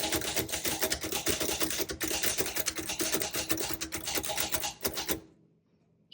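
A 1935 Royal Model O manual typewriter clatters with rapid, close, dense keystrokes and carriage clacks for about five seconds, then stops abruptly into near silence.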